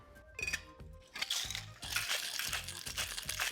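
Ice rattles in a cocktail shaker during preparation of a red rum tiki cocktail, a dense, steady crunchy rattling that builds and continues without pause, close and fairly loud, with no voices.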